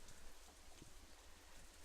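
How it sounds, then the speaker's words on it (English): Rain falling on an umbrella in the Katawa Shoujo video game, a faint, steady patter of drops with soft irregular taps, heard alone and distant. "Raindrops hitting the umbrella make a distinctive sound, playing the staccato melody of rainfall for nobody in particular."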